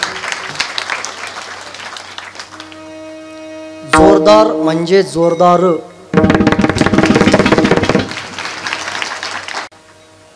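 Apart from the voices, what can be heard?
audience clapping loudly at a kirtan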